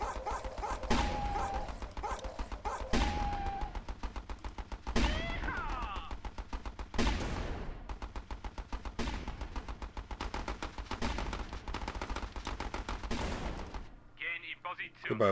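Rapid turret gunfire from the Battle Islands: Commanders video game, with repeated bursts of shots and booms stacked over busy game effects throughout, loud and continuous before cutting out near the end.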